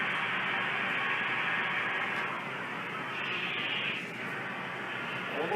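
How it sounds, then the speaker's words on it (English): Steady hissing white noise pours from a ghost-hunting device inside a biker bar, a dense unbroken wash with slight dips in level and no voices. "Give me that white noise."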